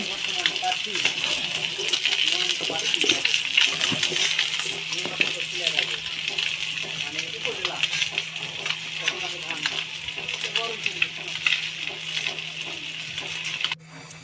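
Small fish frying in oil in a pan, a continuous close crackling sizzle with occasional pops and scrapes of stirring, steady for most of the time before cutting off near the end.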